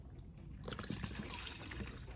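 Fuel trickles and dribbles out as a vehicle's fuel filter is pulled off, a faint close liquid splatter that starts partway through and keeps going softly.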